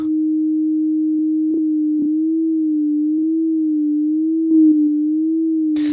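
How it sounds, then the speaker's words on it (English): A steady Yamaha Reface DX synthesizer sine tone with a gentle wavering vibrato from modulation, sustained throughout with a few faint clicks along the way. "The modulator is causing a sort of vibrato effect there."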